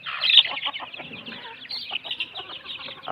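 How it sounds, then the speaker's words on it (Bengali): Desi chickens cluck and chatter continuously at a poultry farm, several birds close by in overlapping, busy bursts. "মুরগি কিন্তু ওটা থেকে একদম ফ্রেশ পানি খাচ্ছে এখন"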